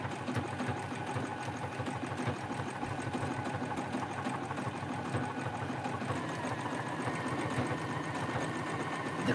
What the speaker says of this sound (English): So it actually stitches out the word handmade.